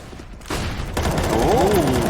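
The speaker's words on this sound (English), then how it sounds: "he's going to get a couple of shots off" Gunfire from a Counter-Strike match during a DreamHack Open Anaheim 2020 game between MIBR and Complexity, with a sharp burst of shots starting after a quiet moment and carrying into dense, continuous in-game noise.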